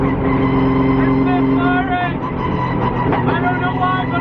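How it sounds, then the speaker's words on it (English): A loud car passing at a meet of tuned cars, engine droning steadily with a rising whine and a brief squeal, close and prominent throughout. "That's a loud car that I don't like"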